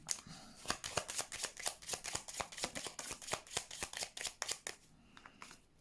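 Tarot cards shuffle and flick in a fast, steady run of crisp snapping taps close by, slowing and thinning out near the end, with no voices.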